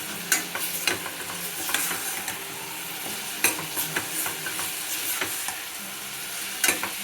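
Pulao ingredients fry and get stirred in hot oil, a steady close sizzle broken by sharp scrapes and clatters of a spoon against the pan, with no talk.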